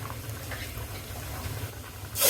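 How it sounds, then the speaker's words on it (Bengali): Cooked dal poured into a hot tempering of bay leaves, giving a steady, fairly quiet sizzling hiss over a low hum that swells louder in the final moment. "এই যে এখন ডাল ঢেলে দিলাম"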